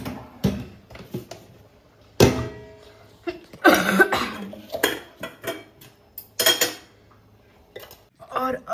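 Many used dishes, pots and utensils being gathered up in a home kitchen after cooking raita, with repeated clattering clinks and scrapes in irregular bursts, close and fairly loud, plus an occasional cough.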